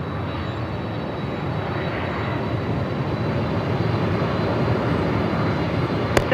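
An airliner touches down on runway 34 at Melbourne Airport in a strong, gusty headwind with wind shear. Its steady engine roar blends with loud, constant wind noise, and a brief sharp click comes near the end.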